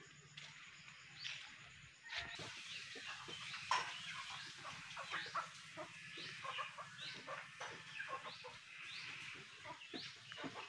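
Chickens cluck and call repeatedly in the distance, a scattered, busy farmyard chatter over quiet background noise.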